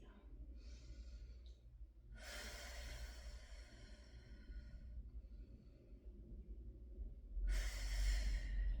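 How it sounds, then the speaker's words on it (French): Quiet, close breathing during a mobility exercise: a soft breath, then a long, deep exhale, a pause, and another strong breath out near the end. "On respire."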